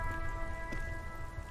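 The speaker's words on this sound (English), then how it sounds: "Great, it's raining." Steady rain in the video game Disco Elysium, a soft continuous patter and hiss heard alone at a low level, with a faint tonal hum of music sitting behind it.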